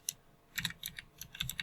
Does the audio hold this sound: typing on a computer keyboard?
yes